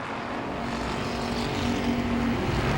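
Race cars roar around Langley Speedway in a short-track Super Streets race, a dense, continuous engine drone at steady loudness with a rising tone as cars pass, and no voices heard.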